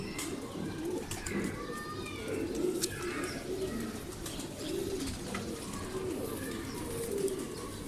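Kamagar pigeons coo repeatedly in soft, low, throaty rolls, several birds overlapping nearby, with occasional higher chirps above a steady background hum.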